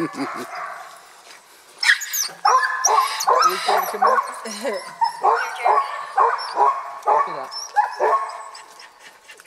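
Several sled dogs in Juneau, Alaska bark and yip excitedly in a rapid, overlapping chorus, loud and close, while a person speaks briefly over the noise.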